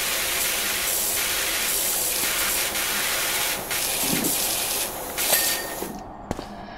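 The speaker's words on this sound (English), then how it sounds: "let's wash this thing up with our 40 degree nozzle" A pressure washer with a 40 degree nozzle sprays a car in a steady, loud, broad hiss that runs almost without a break, with slight dips as the spray moves, before it cuts off near the end and leaves a couple of faint clicks.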